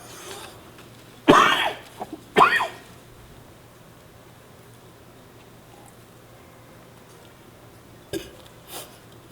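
Several sharp coughs from a preacher during a Korean sermon on the new covenant, two close bursts early, then a fainter single cough and a small trailing one near the end, against a quiet room.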